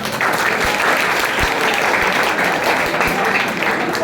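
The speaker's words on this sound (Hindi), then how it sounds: "एक बार फिर से मैं चाहूँगा कि अपने सारे बड़े भाई बहनों के टॉपर बनने के लिए एक बार आप तालियां।" An audience at a school prize distribution for toppers in Bhagalpur breaks into loud, sustained applause, with dense overlapping clapping that stays at full strength from start to end.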